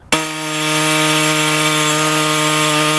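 An angle grinder bites into metal and holds a steady, loud, ringing whine for about three seconds, starting abruptly with no voices over it.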